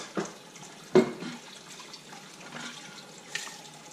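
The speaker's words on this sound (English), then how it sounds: "I'm going to take maybe a little bit of this hot water here and just wash out this." Faint running hot water splashing inside a container being washed out, with a couple of louder clunks and sloshes near the start and a soft trickle afterward.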